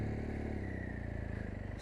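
A 2018 BMW 1200 GS Adventure motorcycle engine running as the bike sets off, a steady close throbbing idle with rhythmic pulsing that rises slightly, no speech over it.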